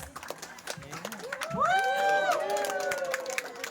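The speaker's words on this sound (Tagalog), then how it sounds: "Let's give him a round of applause!" An audience cheers with rising whoops and shouts that swell into a loud, sustained burst of voices mid-way, with faint scattered clapping underneath and general crowd babble around it.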